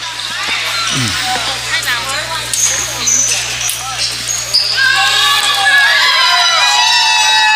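Crowd cheers and shouts at a middle school boys basketball game between the PCCS Knights and RCS Eagles, rising to a loud roar in the second half, with ball bounces and an announcer talking over it.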